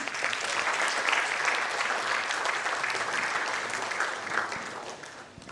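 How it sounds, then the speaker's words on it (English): A dense, sustained round of applause rises from the audience at a corporate learning and development summit and awards event, welcoming someone speaker to the stage, holding fairly even throughout before easing slightly at the end. "Can we welcome her with a big round of applause, please?"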